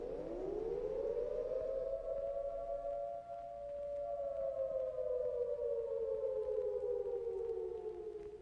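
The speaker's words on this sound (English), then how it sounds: "Here's what the attack warning sounds like." A civil defense attack warning siren wails alone, a single steady tone rising at the start, holding high, then slowly sagging in pitch, loud and continuous over faint background hiss.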